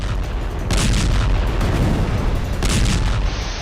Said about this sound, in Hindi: बेहद ही विस्फोटक और विनाशक अंदाज में बमबारी की जा रही है।